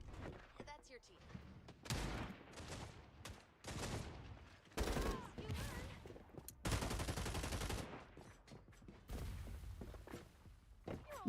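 Bursts of gunfire from the FragPunk shooter game, several loud clustered volleys separated by brief lulls, with commentators talking over the action throughout.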